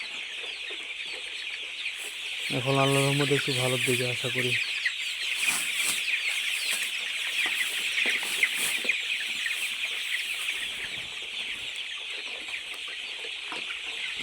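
Domestic chickens clucking and calling in a flock, a steady chorus of fowl voices with a louder patterned burst early on, while someone talks intermittently over them.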